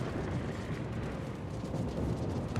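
Naval gunfire and explosions rumble through a World of Warships battle as a dense, continuous low roar of distant blasts and booms, steady and loud throughout without talk.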